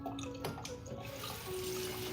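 Cold tap water runs steadily onto overboiled pasta shells in a kitchen sink, a continuous close splashing hiss with some clinks and a faint tone throughout.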